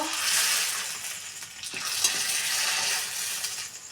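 Rice flour papad fry in hot oil with a steady bright sizzle and crackle, close and continuous, with a few soft stirring scrapes and no talk.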